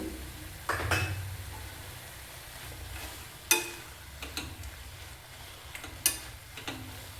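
Sprouted moong and dill leaves frying with masala in a pan: a soft low sizzle runs throughout, broken by several sharp clinks and scrapes of a spoon against the vessel as it is stirred.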